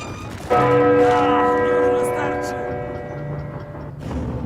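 A large church bell in the video game Uncharted 4 strikes once with a loud clang and rings on in a long, slowly fading chime, with faint mechanical noise beneath and a soft clunk near the end.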